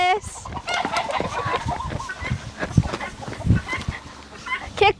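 Many free-range chickens cluck and chatter close by in an outdoor play area, several birds calling over one another, with a rooster-like call near the end and faint voices in the background.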